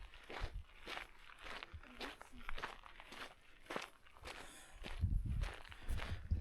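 Footsteps along a hiking trail, a steady rhythm of close, crunchy steps on rough ground with some rustling, faint and uneven in loudness.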